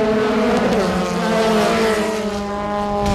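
Loud, steady engine roar with rising and falling whine, like racing cars revving together near the microphone, with no talking.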